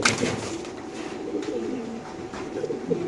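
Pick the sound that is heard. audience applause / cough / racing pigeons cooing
racing pigeons cooing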